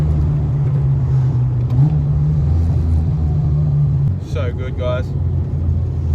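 A straight-piped RB30 engine in a Nissan Skyline R31 rumbles and burbles at idle with a steady low throb from inside the car, while someone talks briefly over it toward the end.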